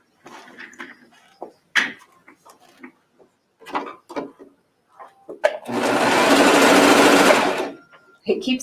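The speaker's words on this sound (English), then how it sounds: "So the first thing I wanna do is just stitch down the seam" A sewing machine stitches a seam on pajama pants fabric, running in one steady, loud, fast whirring burst near the end, close up. Before it comes a woman's brief speech mixed with handling clicks and rustles.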